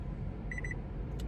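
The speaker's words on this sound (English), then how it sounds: "I'm hearing it beep, and it's telling me it's going to turn off just to save the battery." A car chimes four quick, evenly spaced electronic beeps, clear and close, with a low engine-like rumble underneath.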